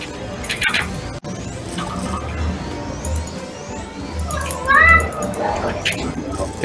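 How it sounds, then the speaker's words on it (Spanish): A cat meows with rising, wavering cries amid busy game sound effects and people talking over voice chat during an online guild battle. "Ese gato quiere jugar."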